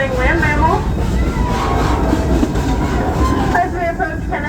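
A zoo ride train rumbles steadily toward a station, with a loud, continuous rolling drone and faint squealing tones, while a voice speaks over the noise.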